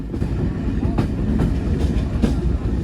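The Kapotaksha Express passenger train runs on rails between Rajshahi and Khulna, heard from on board. A loud, continuous low rumble carries several distinct clacks of wheels passing over rail joints.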